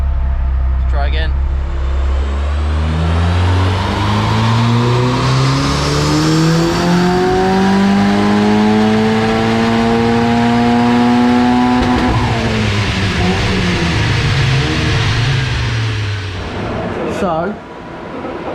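Turbocharged Zetec engine in a Ford Escort Mk4 race car revving hard through the gears on a run, loud rising engine notes that climb, drop and climb again, with a sharp pop near the end.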